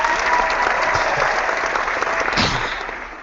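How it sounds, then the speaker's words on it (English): Audience applause in a studio setting for a football fan forum show, a steady dense clapping that stays loud throughout and fades slightly toward the end. "Andy Levitra applause"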